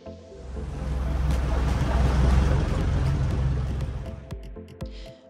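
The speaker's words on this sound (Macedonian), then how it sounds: "Тука се меша звукот на ехо на вода кој се бранува и моторите од чамците." Boat motors drone in a sea cave, blending with echoing, lapping water in a rushing wash that swells, holds steady and then fades toward a few distant knocks.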